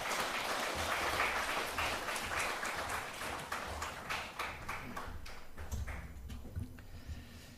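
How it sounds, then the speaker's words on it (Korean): Congregation applause at a Sunday church service welcoming a pastor to the front, a steady wash of many hands clapping that gradually thins and tapers toward the end. "우리 소순배 목사님 나오실 때 박수로 환영해 주셨으면 감사하겠습니다."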